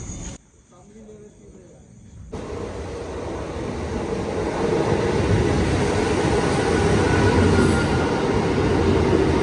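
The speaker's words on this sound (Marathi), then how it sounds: "आता ट्रेन येते" A train rumbles into a station and grows steadily louder, a broad roaring clatter building over several seconds after a quieter start.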